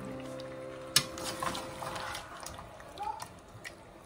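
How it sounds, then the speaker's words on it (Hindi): Mutton sizzles gently in a pan of spices while being stirred, with soft scraping and a sharp utensil clink near the start, all fairly quiet beneath a voice talking. "मटन को मसाले में ऐसे ही भून लेंगे करीब 5 मिनट, चलाते रहिए और भूनते रहिए।"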